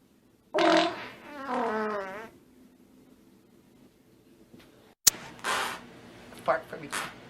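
Cartoonish fart sound effects made to sound like a little boy farting: a long wavering blast, then after a pause a sharp pop and a run of shorter sputtering bursts, loud and close.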